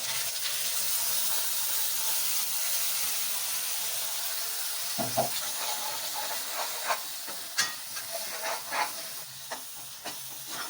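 Masala paste goes into hot oil with cumin, mustard seeds and curry leaves and sizzles in a loud, steady hiss. Sharp crackles and pops break out irregularly over the hiss about halfway through.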